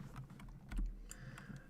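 Someone types on a computer keyboard in short bursts of scattered clicks. The keystrokes are close and fairly quiet, with no talking.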